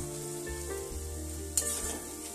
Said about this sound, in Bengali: মশলাটাকে একটু ভালো করে কষিয়ে নেব যতক্ষণ না আদা, পেঁয়াজ আর রসুনের গন্ধটা চলে না যায়